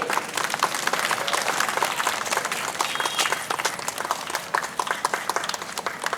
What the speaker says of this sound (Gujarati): આપણે રીનાબેન માટે જોરદાર તાળીઓ પાડી નાખીએ